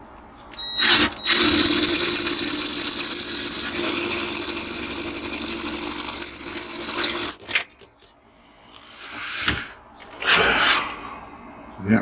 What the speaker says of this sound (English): The actual drill is cutting it.